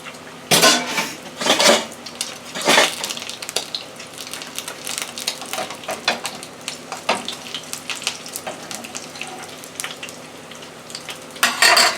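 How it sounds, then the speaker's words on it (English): A large beef potato pie frying in a pan, with a continuous sizzle under repeated bursts of clattering utensils and pan scraping, fairly close and with no one talking. "I think I better fry one at a time."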